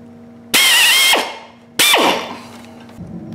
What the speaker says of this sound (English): That would be this drill bit right here.